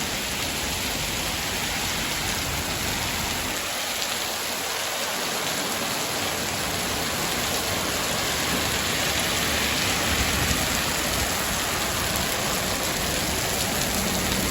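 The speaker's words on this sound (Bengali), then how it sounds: "খালি বৃষ্টি হচ্ছে, খালি বৃষ্টি।" Heavy rain falls in Malaysia, a dense, steady hiss of downpour that fills the whole stretch evenly without pause.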